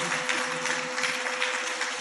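A church congregation claps steadily together, a dense wash of applause with a faint hum underneath.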